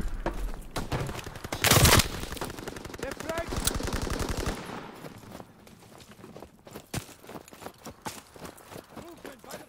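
Call of Duty WWII gameplay features rapid machine-gun bursts, loud and dense at first, then giving way to scattered single shots and softer battlefield noise.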